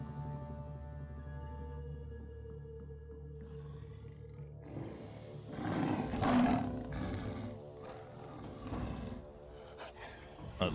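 A prehistoric saber-toothed cat lets out a deep, rumbling roar that swells loud at mid-clip and then trails off into growls, preceded by a quiet tonal music bed.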